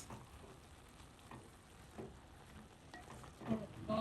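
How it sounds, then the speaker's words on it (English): Callaloo with parsley being stirred in a pot over heat, soft scraping and gentle sizzling, close but faint, with a few clinks near the end. "And then I'm going to stir this."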